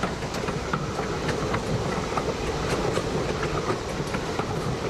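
A railroad train in 1863 Cleveland rolls past in a steady, continuous rumble, with a faint rhythmic wheel clatter running through it and no voices.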